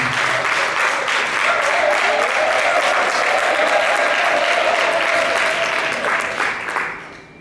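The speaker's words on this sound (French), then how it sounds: "nous allons donc également acclamer dans cette salle" A hall audience at a book-signing conference in Yaoundé applauds in a dense, steady roar of clapping that holds for about seven seconds before thinning out at the end.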